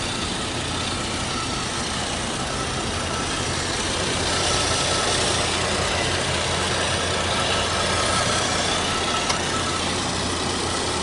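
A Chevy front-wheel drive car's engine runs steadily at idle, a constant even hum and whir heard close up with no talking.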